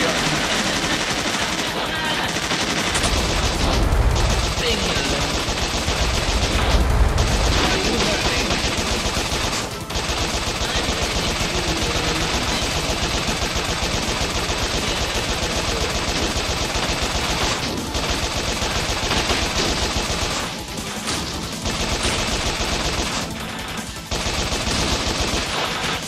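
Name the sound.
machine gun fire in the video game Bot Vice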